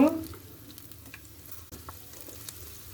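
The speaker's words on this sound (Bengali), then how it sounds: "10 মিনিটের মতো ভেজে নেব।" Spices fry in a pan for a fish and potato curry, a steady low sizzle with faint stirring scrapes running throughout, close and moderately quiet with no talking.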